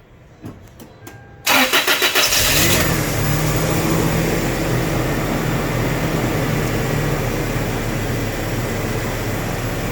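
A car with an intermittent misfire cranks with a few quick rhythmic turns, catches, and settles into a loud steady idle close by.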